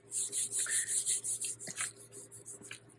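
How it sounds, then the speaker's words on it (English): Paint being rubbed through the tiny holes of a sequin waste stencil onto a page, heard as a steady run of about a dozen rhythmic, scratchy rubbing strokes, close and alone, easing off toward the end. "You want to make sure you rub through all those little tiny holes if you want to get the paint to come through it"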